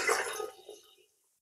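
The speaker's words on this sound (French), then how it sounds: "Et là, on commence à mettre le premier litre de vin rouge. Bon, avec l'entonnoir, hein, c'est bien plus commode," Red wine poured through a funnel while making walnut wine, a short close liquid splash and gurgle that tapers away within about a second.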